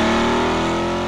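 A Chevrolet Corvette C8 fitted with a Borla exhaust drones loudly and close, its engine holding a steady, rich tone throughout the brief moment.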